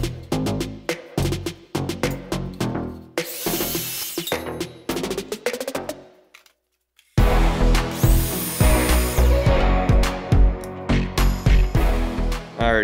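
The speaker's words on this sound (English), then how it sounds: "on that miter saw, we're gonna cut them down to 48 inches" Miter saw cutting rustic barn wood beams down to 48 inches: loud, close bursts of a power saw whining through wood, several cuts separated by short pauses and a brief silence partway through.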